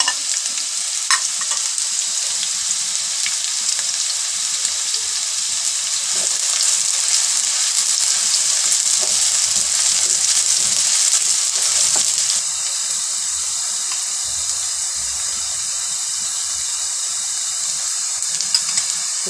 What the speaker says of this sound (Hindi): ऑयल गरम हो गया है, प्याज डाल देंगे,